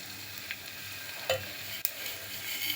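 Raisins, cashews and cardamom fry in a pan with a steady low sizzle, broken by a few soft stirring scrapes and one sharp clack near the middle.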